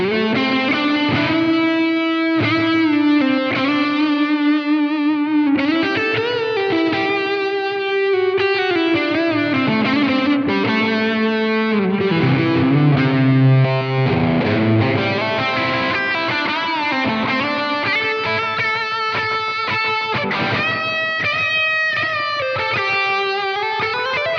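Electric guitar lead through a Blackstar St. James amp plugin, second channel with extra tube screamer drive: a sustained, lightly overdriven melodic solo line with bends and held notes, played alone and continuously.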